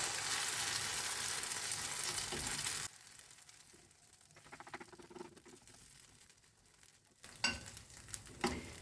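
Patties made with eggplant and zucchini fry in a pan with a close, steady sizzle at first. After a sudden drop it turns to quieter spattering, then louder crackling bursts at the end.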